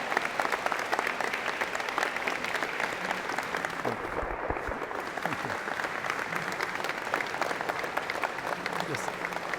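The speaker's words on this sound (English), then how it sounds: "Give him a big round of applause for Mauricio." A convocation crowd at the College of Engineering and Computer Science gives Dr. Mauricio Salinas a big round of applause, thick continuous clapping that carries steadily from start to finish with voices mixed faintly into it.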